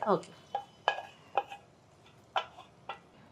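Fried ravva laddu pieces tipped into a large vessel, producing a series of sharp metallic clinks and scrapes spaced about half a second apart, close and fairly quiet.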